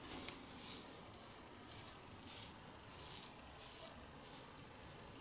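An Edwin Jagger DE89L double-edge razor shaving against the grain along the jawline over Arko soap lather, giving a series of about nine crisp, scratchy strokes in a steady rhythm, close and moderately quiet.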